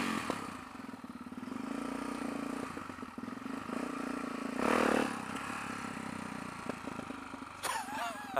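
A motor vehicle's engine drones and revs during wheelies on a misty morning, with clatter and scraping throughout and a louder surge about midway.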